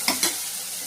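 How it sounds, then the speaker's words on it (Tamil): Tomatoes frying in a pan for a drumstick-leaf dal, with two quick stirring scrapes near the start over a steady, close sizzle. "நல்லா தக்காளி கொஞ்சம் வேகணும். நல்லா ஃப்ரை ஆயிடுச்சு."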